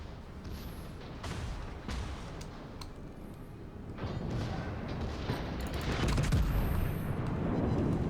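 Heavy naval gunfire and shell impacts in a World of Warships battle as a dreadnought scores a citadel hit, dense booming blasts and rumbling crashes building louder toward the end, with no talk.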